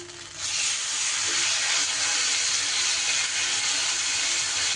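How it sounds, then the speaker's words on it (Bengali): Ginger and cumin paste hits hot oil with whole-spice tempering, bursting into a loud, steady sizzling hiss that continues without letup. "আমি যে আদা আর জিরের পেস্টটা তৈরি করে রাখলাম সেইটা দিয়ে দিলাম"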